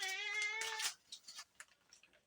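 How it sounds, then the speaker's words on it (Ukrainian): A pet cat meows loudly and insistently indoors at feeding time, a drawn-out harmonic cry followed by shorter, fainter mews and small rustling sounds. "Бо будеш м'явчати мені і відео не даси зняти."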